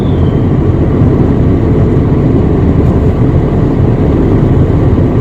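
A manual car climbs uphill in a single gear on steady throttle, its engine droning loud and constant with a low rumbling hum and road noise throughout, no shifts or pauses.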